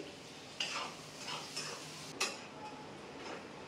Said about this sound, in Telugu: మనకి ఉల్లిపాయలు మంచి బ్రౌన్ కలర్ వచ్చేంత వరకు అయితే వేయించుకోవాలి. వేయించి చూపిస్తానండి.